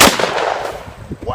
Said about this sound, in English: So I'm going to fire it up and away from me a little bit this first shot.